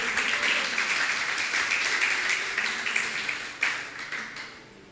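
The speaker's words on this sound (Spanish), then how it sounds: "el pueblo de Dios da un fuerte aplauso al que vive por los siglos de los siglos" Church congregation claps together in praise during a sermon service, a moderate, fairly close round of applause that gradually thins out and tapers away by the end.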